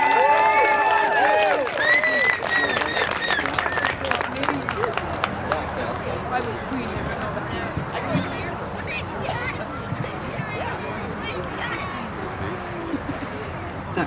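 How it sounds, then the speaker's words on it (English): An audience claps and cheers at a speaking event, a dense burst of applause with voices over it that gradually thins and softens across about fourteen seconds. "Linda Morken, a round of applause, please."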